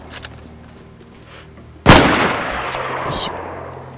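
A loud, close gunshot in the video game DayZ cracks out and booms into a long decaying echo, with faint clicks and movement sounds before and after.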